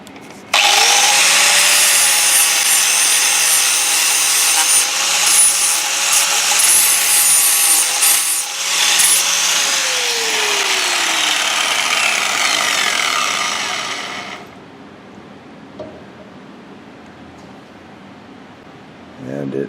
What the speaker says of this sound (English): So we'll grind off a little more.